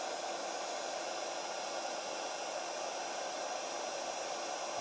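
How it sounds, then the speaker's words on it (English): Constant, even blowing hiss of hot air from a close heat gun used for pyrography, steady from start to finish with no pauses or voices. "it's got to be a heat gun"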